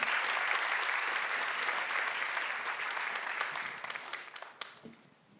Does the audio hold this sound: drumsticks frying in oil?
no